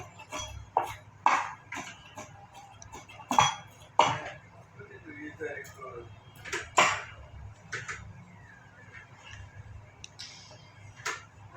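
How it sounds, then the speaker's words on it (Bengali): Knife chopping onions and green chillies on a board in a home kitchen, a series of sharp, irregular taps close by, some grouped in quick pairs, with quiet pauses between bursts. "একটু চপ করে নিব হ্যাঁ আমি নাইসলি চপ করলাম"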